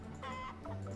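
A chicken in the puzzle video game 12 Locks gives a short burst of clucking, brief and fairly quiet, with no talk over it.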